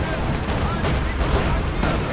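Dense gunfire in the WWII strategy game Company of Heroes 2, a steady wash of crackling shots and distant artillery-like booms running without a break, with several sharper bursts standing out.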